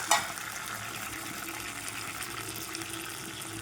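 Water poured into a cooking pot while making a sour dish with fish roe, a steady faint continuous pour lasting throughout at low level.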